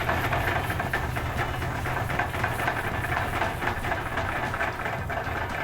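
An omelette cooks in plenty of olive oil in a pan at a Basque cider house, making a steady, dense sizzle with a low rumbling undertone and no voices.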